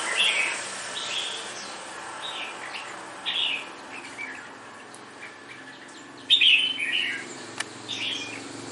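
Red-whiskered bulbul (chào mào), a wild-caught cage bird, chirping in short bright bursts, with a louder call near the end over faint background hiss.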